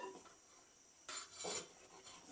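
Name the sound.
opening lid of curry pot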